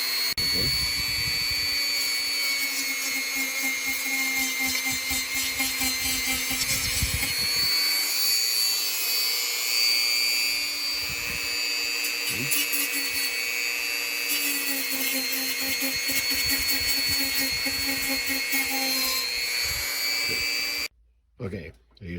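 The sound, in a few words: Dremel rotary tool sanding a Bible cover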